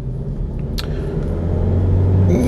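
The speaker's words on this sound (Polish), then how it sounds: "I ten silnik wspomagany jest silnikiem elektrycznym o mocy niecałych 44 koni" A 2017 Kia Niro Hybrid, with a petrol engine assisted by an electric motor of about 44 horsepower, drives along with a low, steady interior rumble and engine hum that swells gradually, with no one talking.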